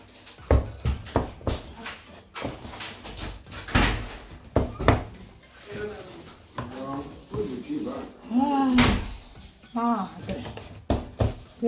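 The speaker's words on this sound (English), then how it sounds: "open the door for your daddy" Door knocks and clunks sound up close as a door is opened in a home. Uneven thumps and rattles mix with a dog's whimpering, and someone talks over part of it.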